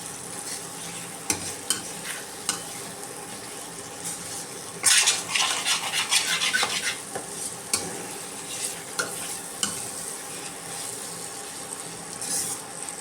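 Capsicum chicken kosha, coated in a thick cornflour slurry, sizzles in a pan while a spoon scrapes and clatters against the metal, with irregular knocks and a louder burst of stirring and frying midway.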